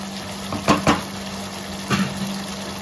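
Pieces of fish drop into a simmering pot of Telugu chepala pulusu fish curry: two quick soft splashes close together, then a third a moment later, over a low steady kitchen hum.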